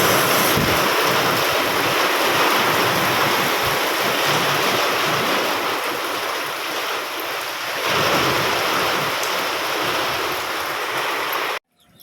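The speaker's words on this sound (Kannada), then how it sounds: "ಸಖತ್ತು ಮಳೆ ಜೋರಾಗಿ ಬರ್ತೈತೆ." Heavy rain lashes down in strong wind, a dense, loud, continuous roar with gusty rumbles, unbroken for about eleven seconds before cutting out abruptly.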